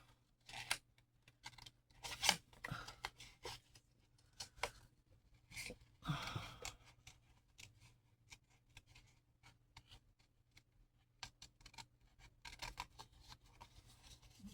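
Scissors snip through paper in irregular bursts, crisp cuts with pauses between, close and fairly quiet against a low steady hum.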